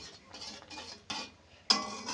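Milk with a pinch of salt being stirred in a pot, a utensil scraping and clinking against the metal in short separate strokes, close and fairly quiet, with no talk.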